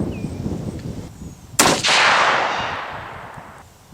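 A single loud 7mm-08 handgun shot cracks out at close range, with a sharp attack that trails into a long, slowly fading roar and echo over steady outdoor background noise.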